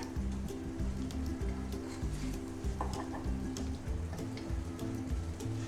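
Flour-coated chicken snack pieces fry in hot oil, giving a steady crackling sizzle close by that runs without pause, over a low droning background.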